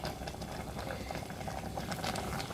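A pot of bamboo shoot curry with white wood-ear mushrooms and fermented fish sauce bubbles at a steady boil, a dense continuous simmering patter heard close up with no talk.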